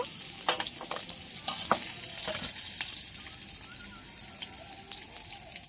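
A bhetki fish head frying in a pan, a steady near sizzle with scattered pops and utensil taps, quietly fading out at the end with no speech.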